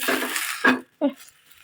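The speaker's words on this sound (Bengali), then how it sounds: "আমার এই ফ্রাই প্যানটা কেন জানি চুলায় ঠিক হয়ে বসে না" Metal frying pan clattering and rattling on a home kitchen stove in two sharp, close bursts, the first following a stretch of nearby talk.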